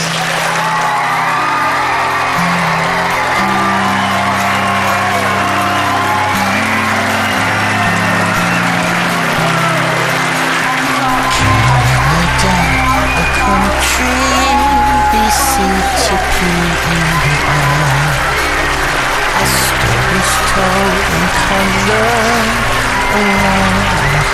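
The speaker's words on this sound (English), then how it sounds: "Let's give a huge, big round of applause for Mrs. Susan Barrett." Loud, sustained applause mixed with whoops and cheers from a crowd at a school performance event in Canada, continuing throughout over music.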